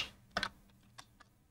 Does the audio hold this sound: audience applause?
no